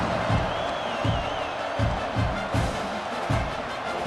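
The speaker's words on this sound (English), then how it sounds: "this crowd is buzzing after that last score" Football stadium crowd murmuring and cheering after a score, a broad steady roar with periodic swells, while a commentator talks over it.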